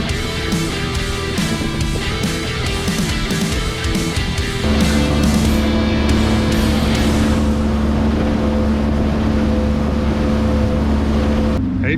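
A motorboat engine drones loudly nearby at Hervey Bay, its pitch shifting as it passes, then a steadier deep rumble continues with wind and water noise.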